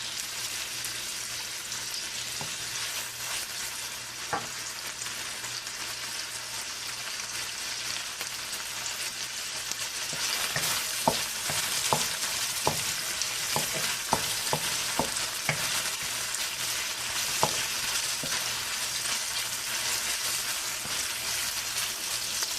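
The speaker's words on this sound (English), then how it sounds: "Just cook until it softens up, and then you add the mixed vegetable." Onions and mixed vegetables stir-frying in a pan for egg fried rice, a steady broadband sizzle throughout with a run of sharp utensil scrapes and taps in the second half, close and moderately loud, no talking.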